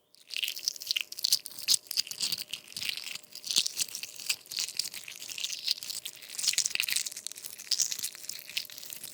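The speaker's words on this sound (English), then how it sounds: "And peeling that boiled egg." Close, continuous crinkly crackling and soft tearing as fragments are pulled away from a boiled egg's shell, with irregular bursts of louder crunches throughout.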